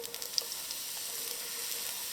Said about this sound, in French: Et on pourra les griller à feu assez vif.